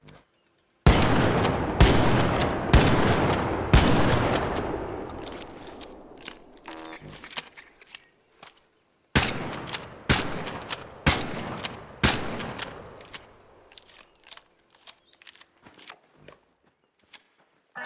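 Il Toro shotgun fired with a silencer in a video game, about a dozen sharp, loud blasts in two bursts, each with a decaying tail and mechanical clicks between shots.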